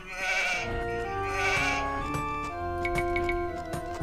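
Sheep bleat twice in quick succession over steady game music in Age of Empires 2, followed by light ticking clicks.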